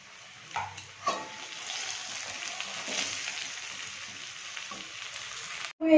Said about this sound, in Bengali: একটুখানি নুন আর একটু হলুদ দিয়ে আমি আলুটাকে ভেজে নেব।